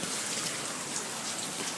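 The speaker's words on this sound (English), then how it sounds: "There's the rain pouring out on us." Steady rain pours down over a bay and boathouse during a thunderstorm, a dense even hiss that fills the whole short stretch, close and unbroken with no voices.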